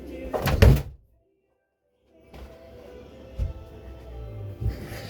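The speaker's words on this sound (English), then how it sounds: "I'll shut my door properly so I don't fucking hear it." A room door shut firmly by hand, a single loud thump at the start followed by a brief silence and then quiet room noise with faint knocks.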